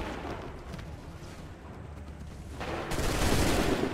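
A musket volley in the Assassin's Creed III video game, set at Lexington and Concord, crackles as a rough, noisy roll of gunfire that swells into a louder burst near the end.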